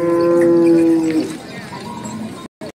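At a crowded bull market at Lasur Station, a Gavran or Khillari bull lets out one long, loud bellow, followed by a low murmur of market noise before the sound cuts off.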